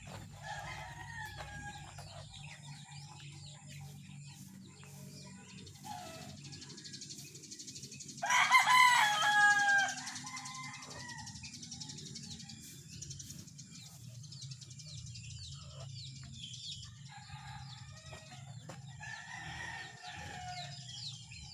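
A single rooster crows loudly once, standing out against a quiet backdrop of faint birdsong and distant clucking.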